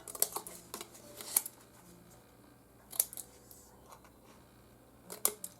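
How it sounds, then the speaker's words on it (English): Scissors snip off the top flaps of a small paper box made with a Cricut, a few crisp close cuts with short pauses, quiet and without talk. "I'm going to cut off those top flaps"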